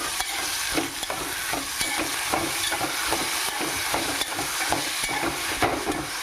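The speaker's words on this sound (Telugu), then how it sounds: "బాగా దొండకాయ ముక్కలు పచ్చిమిరపకాయ ముక్కలు బాగా మగ్గేటట్టు వేయించుకుందాం." Ivy gourd and green chilli pieces fry in a pan with a dense, continuous sizzle, broken by regular scraping strokes of a spatula stirring them, close and fairly loud.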